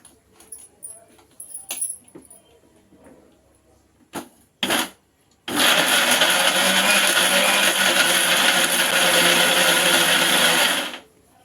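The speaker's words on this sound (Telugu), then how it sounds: "మిక్సీ చేసుకుందామండి" After a few clicks and clatters, a mixer grinder whirs loudly and steadily for about five seconds grinding minced chicken mixture, then stops abruptly.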